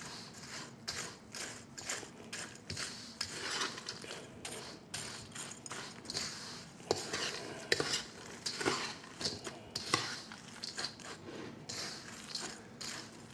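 A sauce mixture is stirred in a cup with a utensil, a quick run of light clinks and scrapes in an uneven rhythm, close and fairly quiet.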